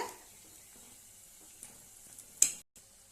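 Karamani vada made from black-eyed peas frying in oil at medium heat, a faint steady sizzle with soft bubbling and a brief sharper crackle near the end, no talking.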